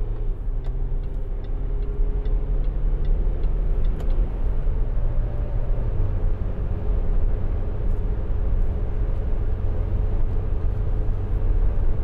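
A 2011 Land Rover Discovery 4 with the 3.0 SD V6 diesel pulls away, a steady low engine drone and road rumble heard from inside the cabin, with faint ticking over it.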